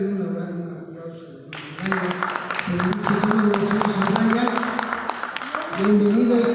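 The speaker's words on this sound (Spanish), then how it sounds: "denle un aplauso" A congregation claps together in a Pentecostal church. Dense, steady applause starts after a moment and continues under a sustained voice or music tone.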